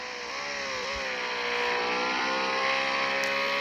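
Car engine in the Roblox game Notruf Hamburg, a steady revving drone that climbs gradually in pitch and loudness as the vehicle accelerates, continuous and fairly close with no talking.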